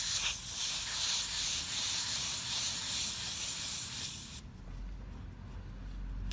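Air hissing steadily out of a tyre valve on a Peugeot 205 GTI track car as the valve is removed, a loud close rush that cuts off abruptly partway through, leaving a quieter low rumble.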